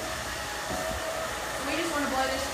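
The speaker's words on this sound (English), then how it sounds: "Get me a little blow dryer. Sorry, I know it's loud." A small blow dryer dries a European remy human hair topper, a loud, steady, close airy roar with a slight rise in intensity toward the end.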